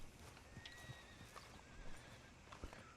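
In the Red Dead Redemption 2 game world, a horse gives a short whinny among soft clip-clop hoof steps, faint and close, with no talking.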